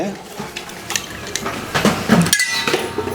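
A spoon stirs a drink in a glass, with quick repeated clinks and scraping against the glass, close up, while a voice is heard in the background.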